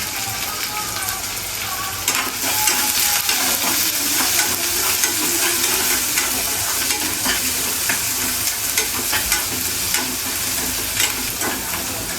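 Mustard seeds sizzle and crackle steadily in hot oil while being stirred for kanda poha, a dense continuous frying hiss with scattered pops and occasional utensil scrapes throughout.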